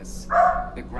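A single short bark from a pet dog named Mila rings out over a quiet indoor background, a brief sharp yelp of moderate loudness.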